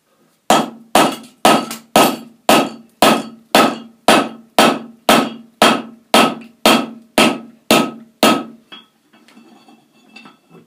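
A blacksmith hammers hot steel while forging a wall hook, landing about fifteen loud, evenly spaced ringing blows close by before stopping, followed by faint clinks.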